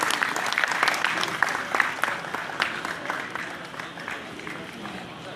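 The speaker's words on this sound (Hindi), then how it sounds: "तालियों के साथ स्वागत कीजिए हमारे ग्रुप एडिटर की नाविका जी।" An audience claps steadily at a televised stage event in a dense, continuous round of applause that gradually softens, with no speech.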